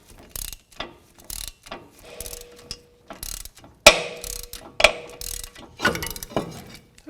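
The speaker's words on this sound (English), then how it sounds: "So let's go to the other side and tighten that up." Ratchet wrench tightening bolts to push a rusted front brake rotor off the hub of a Toyota RAV4, loud close bursts of rapid pawl clicking in repeated strokes with short gaps, no talking over it.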